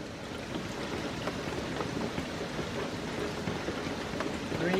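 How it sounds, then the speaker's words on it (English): Heavy rain pours steadily outdoors during a prolonged downpour, a dense, constant hiss of drops with scattered closer patter, unbroken and fairly loud throughout. "It's still raining pretty hard outside."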